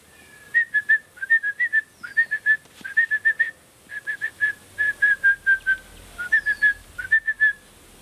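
A person whistles an imitation of the red-bellied paradise flycatcher call, repeated bright groups of three or four quick notes with short pauses between, clear and close in a quiet setting.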